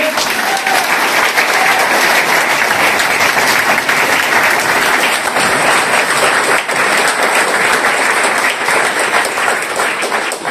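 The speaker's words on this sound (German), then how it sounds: "Applaus bitte!" Sustained, loud applause from an audience at an Austrian journalism club event, a dense, even wash of clapping that runs steadily for about ten seconds.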